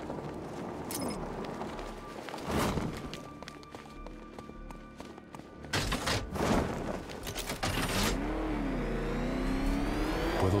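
Batmobile engine in Batman: Arkham Knight, revving and surging in bursts with whirring and rising pitch sweeps, over game effects and footsteps, moderately loud with no talk.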